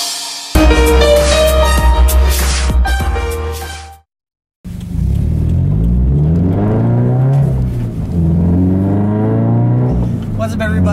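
A Subaru BRZ sports car with a loud exhaust system revs up and down in repeated rising and falling sweeps, close and throaty, after a brief silence.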